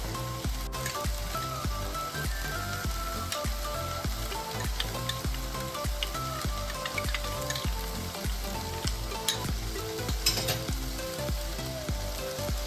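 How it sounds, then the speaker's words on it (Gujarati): A thick cornflour-and-water mixture for veg dry Manchurian sizzles and bubbles in a hot pan while being stirred, with a steady rhythmic scraping. "થોડું થોડું એડ કરતા જશું ને હલાવતા જશું"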